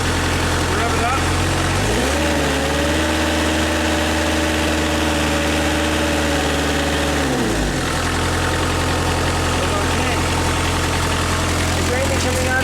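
A Perkins diesel engine on a Genie lift idles steadily, revs up to a higher sustained pitch for several seconds, then drops back to idle, heard close and loud.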